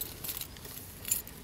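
Car keys jangle in a few light, close metallic bursts, with a brighter clink near the end.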